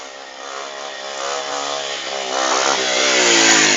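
A motorcycle engine revs loudly and steadily nearby, its pitch rising and wavering as it builds, with no speech.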